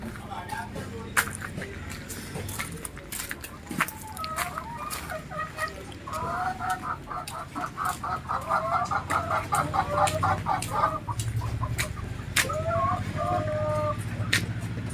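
Hens in a backyard coop cluck and cackle in repeated rhythmic bursts after laying eggs, loud and close, with other fowl and faint background voices around them.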